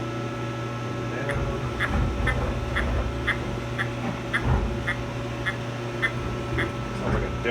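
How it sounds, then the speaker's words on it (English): The handwheel of a CNC machine being turned while jogging gives a run of quick, evenly spaced quack-like clicks over a steady machine hum. "it sounds like a little duck quacking"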